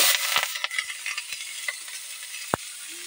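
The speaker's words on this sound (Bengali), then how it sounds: "এই তেলেই পেঁয়াজ তুলে দেবো।" Onions drop into oil left from frying fish and start to sizzle, a bright hiss with scattered crackles and a few spoon taps against the pan, close and fairly loud.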